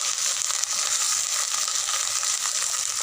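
A paste of garlic, ginger, onion and cumin sautés in hot oil with a loud, steady, hissing sizzle and faint crackles, with no talking.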